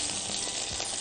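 Onions hit a hot pan and sizzle with a steady, bright frying hiss for a brief moment, close and alone without talk.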